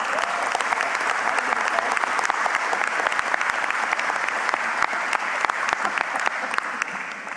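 Sustained applause from an audience at an airport industry forum, a dense, even wash of clapping lasting several seconds with a few sharper individual claps standing out and faint voices underneath.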